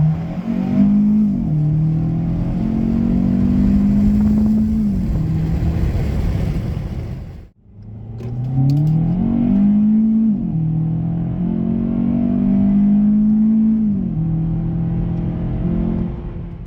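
A 2018 Hyundai Elantra pulls away from a standstill with a loud engine that climbs in pitch through gear changes, drops briefly near the middle, then accelerates again.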